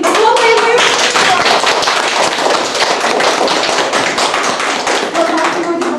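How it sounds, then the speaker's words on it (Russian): Children at a school Halloween party break into loud, sustained applause, a dense crowd of hand claps that keeps going for several seconds with faint voices mixed in. "Похлопаем мы."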